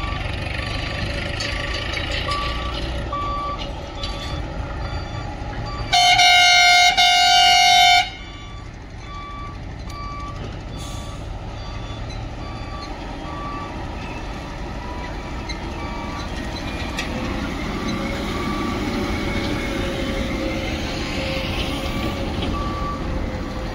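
Heavy crane truck on a site for lifting slabs, with a ten-tyre chassis: a steady engine rumble runs throughout while a loud burst of horn or reversing-beep tones cuts in for about two seconds near the start.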